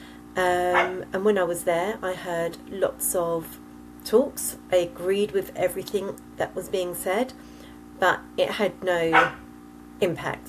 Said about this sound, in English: that is my dog barking